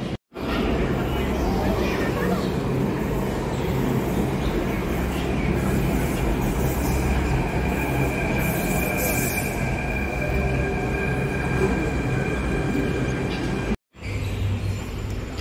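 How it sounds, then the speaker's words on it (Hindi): Steady rumble of a metro train running through Kamla Nagar metro station, with wheel noise and a sustained high squeal, continuous and fairly loud, ending with a brief cut. "अब हम हैं कमला नगर मेट्रो स्टेशन पे"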